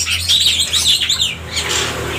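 Bright, rapid oriental magpie-robin chirps and whistled calls repeat throughout, close and fairly loud, over a steady low hum.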